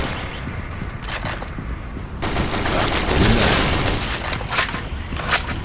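Rapid gunfire in the Dead Trigger first-person shooter: loud, continuous bursts of automatic shots with a brief lull before a denser stretch of rattling fire.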